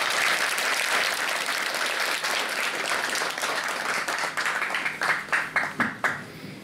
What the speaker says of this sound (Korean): 큰 박수로 이렇게 환영해 주시고 고맙습니다.